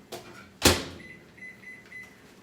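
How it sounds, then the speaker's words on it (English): Microwave oven steaming frozen vegetables: a couple of sharp clunks from the door and buttons, then a series of short electronic beeps, quiet and close. "I'm gonna put this in the microwave for 3 minutes"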